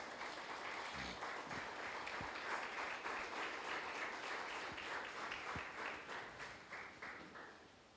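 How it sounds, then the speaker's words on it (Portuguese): A church congregation claps steadily in a sustained round of applause, faint and somewhat distant, with a few sharper claps standing out before it fades toward the end. "Dê uma salva de palmas ao Senhor."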